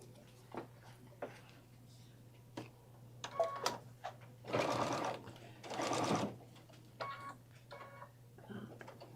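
A sewing machine stitching a bag runs in two short close bursts of rapid mechanical whirring, surrounded by quieter clicks and handling noises and a faint steady hum.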